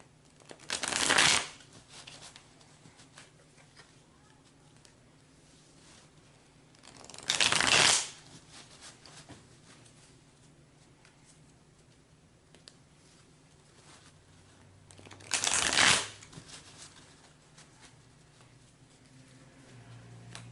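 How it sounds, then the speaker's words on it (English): A Mystic Mondays tarot deck riffled in three short, separate bursts of crisp card shuffling, close and fairly quiet, with long pauses of near silence between them. "I just want to make sure these are good and shuffled, because I have not used these in a long time."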